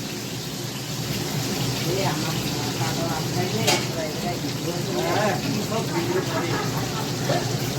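Fish fries in a pan with a steady, close crackling sizzle that runs throughout, while people talk nearby over the cooking noise.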